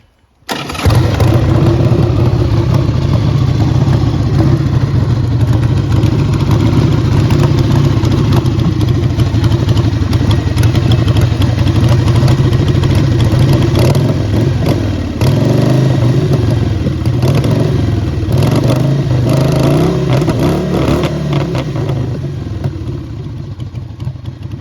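A 1982 Harley-Davidson 1000cc Ironhead Sportster XLS engine runs at idle for a long stretch, loud and close, its rough uneven chugging suggesting a sputter from a carburetor needing cleaning.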